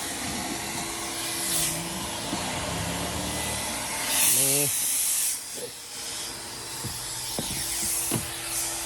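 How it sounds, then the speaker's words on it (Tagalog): Weak-suction vacuum with a clogged hose at a car wash, a steady airy hiss with faint tonal hum and brief bursts of louder rushing air, fairly quiet and close. "Mahina yung higop ng vacuum."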